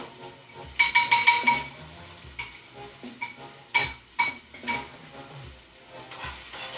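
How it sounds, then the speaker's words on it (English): Cilantro, spinach and onions go into a pan and are stirred, giving a string of clinking utensil-on-pan knocks and scrapes over a soft sizzle, with a louder burst of clatter early on and more scattered clinks after. "I'll add my cilantro, spinach, and onions."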